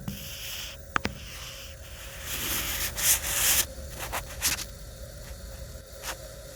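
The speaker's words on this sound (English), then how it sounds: "I'm over here struggling to sand this. Milwaukee 12 volt." A Milwaukee 12 volt sander works against a metal surface on a walk-in cooler, giving close rough rubbing and scraping strokes in uneven bursts, louder in the middle, with a sharp knock near the start.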